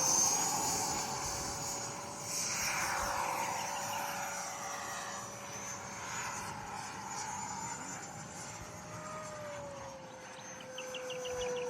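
An F-22 Raptor jet takes off from an airstrip, a loud sustained engine roar with a rising whine that fills the whole stretch and slowly eases off.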